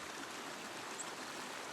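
Broad, steady rush of flowing river water along a stretch of the Gunpowder River below Pretty Boy Dam, a constant even wash with no voices.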